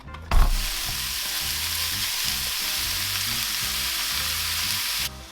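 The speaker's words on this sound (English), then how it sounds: "while I'm browning that mince" Minced meat browning in olive oil in a hot pan, a loud steady sizzle that bursts in as the meat goes in and holds until it cuts off abruptly, with no voices.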